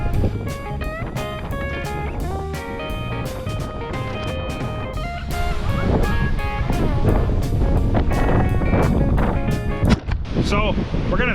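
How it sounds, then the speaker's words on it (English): Strong winds of about 80 miles an hour roar and buffet the microphone outdoors, a loud continuous rush with gusty thumps and rattling bursts, strengthening midway through. "There's 80-mile-an-hour winds out here."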